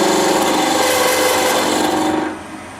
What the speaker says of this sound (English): bring the cutting edge into contact in the right place and make our cut